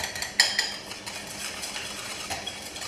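A utensil stirs lumpy tempura batter in a bowl for prawns, giving quick scraping and clinking strokes, one sharper knock near the start, then a continuous close swishing churn with no talking.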